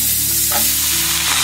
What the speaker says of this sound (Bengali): প্রথমে শিমগুলোকে আমি খুব ভালোভাবে ভেজে নেব